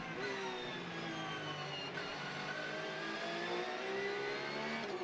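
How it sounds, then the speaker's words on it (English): A race car engine at Okayama circuit revs steadily and loudly for the whole stretch, its pitch climbing and falling in rising sweeps through the gears during a Japan Cup race, with no quieter gap. "That's what a real race car should sound like."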